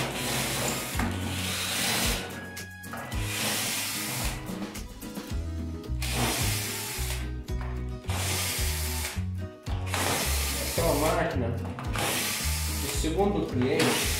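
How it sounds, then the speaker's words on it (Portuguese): A cordless screwdriver takes apart a Bosch GKS 150 circular saw. Close, repeated whirring bursts of a few seconds each are broken by short pauses and faint ratcheting and rubbing, with someone talking in between. "Com a parafusadeira, vou fazer o desmonte dela aqui."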